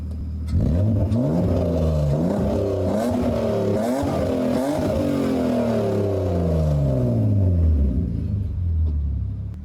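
A BMW E36 M3 engine, a US-spec S50 B30, accelerates hard, its loud, steady roar climbing and dipping in pitch through the gears, close by, with no talking.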